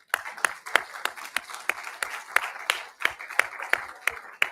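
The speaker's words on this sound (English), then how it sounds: "I'm going to give you applause." Applause for a winning bidder at a live Hollywood entertainment memorabilia auction, with a few people clapping in a fairly quick, uneven rhythm, close and moderately loud over a murmuring room.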